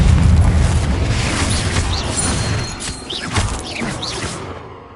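A Confringo spell explodes in Hogwarts Legacy, a loud, close, booming blast with a crackling rush that rolls on and tails off over several seconds, no voices.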